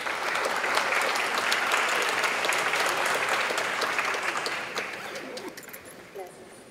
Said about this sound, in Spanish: Los despedimos con fuertes aplausos, por favor.